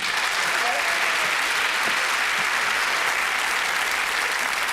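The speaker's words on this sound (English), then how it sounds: "would you give our two ladies a round of applause, please?" A studio audience at a 1983 Christmas variety show gives a dense, loud, continuous round of applause that fills the whole stretch without a break, with faint crowd voices mixed in.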